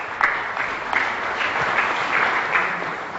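Audience applause at a business talk on employee rewards, a steady dense patter of clapping hands with a few sharper individual claps standing out, no voices over it.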